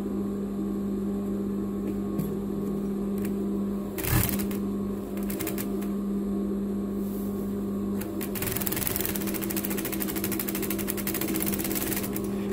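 A sewing machine stitches the shoulder seams of a women's bathrobe in a fast, steady mechanical whir with a humming motor, broken by brief stops and restarts.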